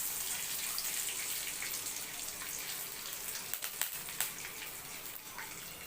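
Finely cut curry leaves hit a pan of hot oil with mustard seeds, urad dal and chana dal, giving a steady loud sizzle with a few sharp pops and no voices.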